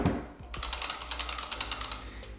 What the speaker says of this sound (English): You can hear a very clear clicky noise from the Sanwa